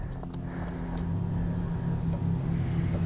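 A KTM Duke 690 single-cylinder motorcycle idles close by, giving a steady, low, rumbling exhaust drone that continues unbroken throughout, with no talking over it.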